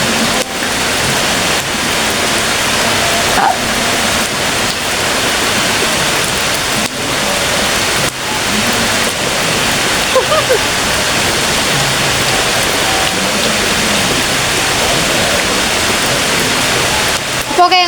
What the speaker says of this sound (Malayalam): ഭയങ്കര സൗണ്ട് കേട്ടോ, നല്ല മഴയാണ്.